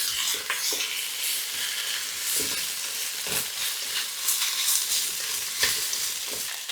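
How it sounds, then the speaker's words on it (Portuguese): Seasoned soup stirred in a pot, with black pepper and salt just added, sizzling and hissing steadily throughout, with soft irregular scrapes and knocks of the spoon against the pot, close up and without talk. "Mexer bem."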